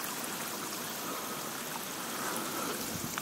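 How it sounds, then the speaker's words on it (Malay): A small waterfall stream in Bali rushes and splashes in a dense, steady wash of water noise, close and unbroken throughout. "Anak air terjun."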